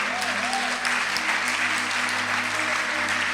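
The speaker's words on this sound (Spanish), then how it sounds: "Dale un aplauso al Rey." Worshippers in an evangelical church applaud during a sermon, a loud, continuous crowd clapping sustained throughout with a faint hum beneath.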